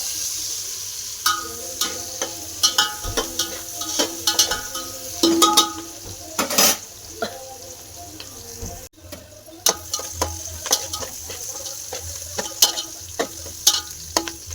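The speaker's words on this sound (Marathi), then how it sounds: "आपण कांदा तळून घेऊ चांगला" Chopped onions frying in oil in a pan for chicken biryani, a steady sizzle broken by frequent sharp scrapes and clacks of stirring, close and fairly loud, with no talking.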